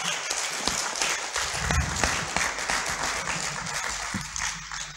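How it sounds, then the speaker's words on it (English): Attendees at the close of a human trafficking training session give a round of applause, dense steady clapping from a roomful of people, fairly close and even throughout. "Please let us give ourselves a round of applause."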